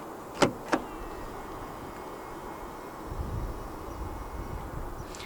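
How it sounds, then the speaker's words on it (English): A 2024 Volkswagen Golf GTI 2.0 TSI locks via its keyless front door handle: two quick, sharp clicks, then a low, quiet hum. "To lock the car, press the indented area on any of the front door handles."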